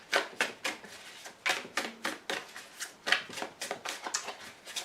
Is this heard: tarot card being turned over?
yes